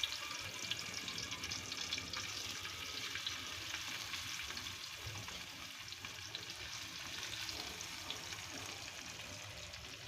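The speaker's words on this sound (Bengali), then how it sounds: "মাছগুলো ভেজে নিব, তারপরে রান্না শুরু করব।" Pieces of fish fry in a pan, giving a faint, continuous sizzle and crackle with no voices over it.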